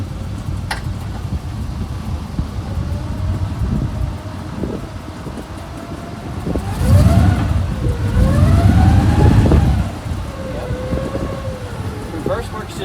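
Cheap old Chevelle backing up in reverse after a transmission flush, its engine rumble swelling loudly mid-way then easing, over constant outdoor noise with muffled voices.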